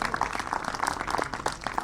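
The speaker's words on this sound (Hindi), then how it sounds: "बहुत सारी तालियां बजाइए" An audience at a cricket premier league auction event claps in applause, a dense, steady patter of many hands heard close for a short stretch.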